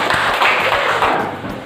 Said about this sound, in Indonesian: Oke nak, silakan tepuk tangan buat Pempi.